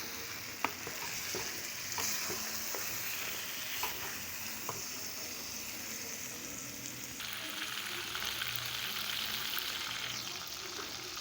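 Chicken pieces and taro (arbi) fry together in a pan, giving a steady, close hiss and sizzle with occasional clicks of stirring, growing a little brighter and louder near the end.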